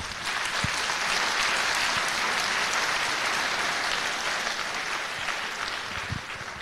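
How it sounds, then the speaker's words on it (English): Steady, dense applause from a high school senior awards night audience honoring students, a full crowd clapping loudly and continuously without a break. "We should give them a round of applause before we even start."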